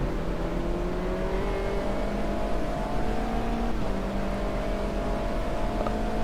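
A race car engine in Automobilista 2 drones steadily at high revs, its pitch climbing slowly through a gear and dipping briefly at a shift, loud and continuous with no talk over it.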